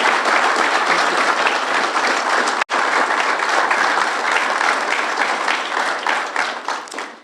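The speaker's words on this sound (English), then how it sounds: "Give them a big round of applause." An audience at a fire and rescue EMS awards ceremony applauds two paramedics receiving a Preservation of Life Award. The clapping is dense and sustained, with one abrupt momentary dropout partway through, then it thins and fades toward the end.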